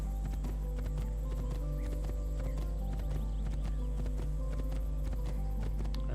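Horse hooves pounding at a steady gallop in Assassin's Creed 2, loud, continuous hoofbeats with an occasional neigh over a deep, constant low rumble of game ambience.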